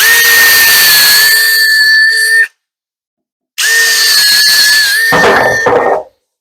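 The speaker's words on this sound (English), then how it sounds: "I have my countersink to get the screws in the back" Loud cordless drill driving 1.25-inch screws through a countersink into a bathroom cabinet drawer face, a high steady whine in two runs split by a short pause, the second ending in a rougher grinding burst.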